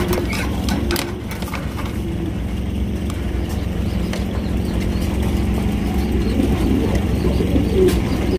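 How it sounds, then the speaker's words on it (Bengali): Mundi jumbo pigeons, a red and a black pair, coo in low repeated murmurs close by, over steady background noise from a pigeon market with a few sharp clicks. "এখানে রয়েছে একজোড়া মুন্ডি কবুতর দেখতে পাচ্ছেন"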